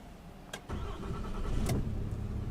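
A 2021 Ram 2500 Limited's 6.7-litre Cummins diesel cranks briefly and catches, settling into a quiet, steady idle heard from inside the cab.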